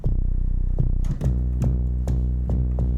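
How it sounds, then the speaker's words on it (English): A simple synth bass patch built in Phase Plant plays a few repeating low notes with sharp attacks roughly every half second, loud and upfront with no talking. "After that I made a bass sound in Phase Plant."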